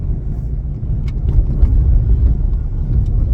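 A truck's engine rumbles from inside the cab as it drives along, a steady low drone with slight swells, loud and close, with no talking.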